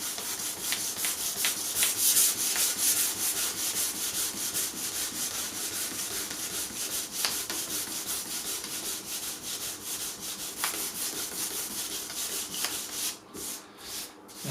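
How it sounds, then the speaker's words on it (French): A gunsmith hand-polishes the wooden stock of a flintlock rifle with 400-grit abrasive after grain sealer, a continuous close rasping rub with quick repeated strokes that falters briefly near the end, with no voices. "il faut tout repolir en enlevant tout ce qui est à la surface et laisser tout ce qui est à l'intérieur du bois."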